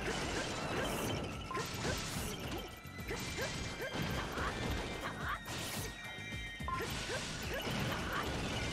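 Sheik kicks and smashes enemies in the Hyrule Warriors: Definitive Edition Water Temple mission, with repeated crashing impacts, swishing whooshes and thwacks coming in quick, uneven bursts over busy game noise, and no voices.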